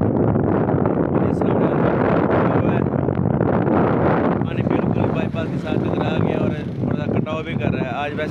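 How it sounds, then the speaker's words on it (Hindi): Strong wind buffets the microphone beside floodwater near a bypass, a loud continuous rumble and rush with people talking over it. "वैसे हवा चली हुई है"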